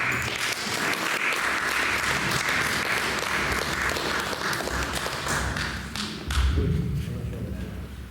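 Audience applause at a poetry reading in honour of Rosa, a dense steady patter of clapping across the whole stretch, easing slightly near the end with a brief thump.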